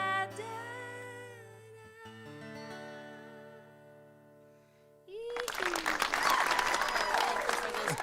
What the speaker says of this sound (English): Virtual claps.